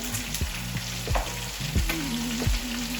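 Onions sizzle steadily in a hot pan, with a constant frying hiss broken by a few soft stirring knocks and scrapes.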